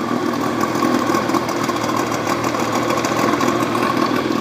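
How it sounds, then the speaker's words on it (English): The engine of a 1991 Lund Angler 1600 SC fishing boat runs close and loud, with a steady throbbing drone that holds fairly even throughout. "Rev it up a bit. Put it in gear. Doesn't clunk when it goes into gear."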